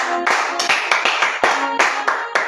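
Voices sing or chant loudly over a congregation at a night prayer service for spiritual combat, with rhythmic hand claps beating under the singing.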